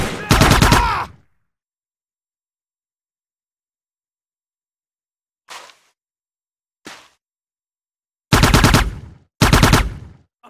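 Gunfire from the Soldier of Fortune: Payback video game on the Al Qa'im outskirts mission: a loud automatic burst at the start, two short distant pops mid-clip, then two more heavy rattling bursts near the end, with silence between.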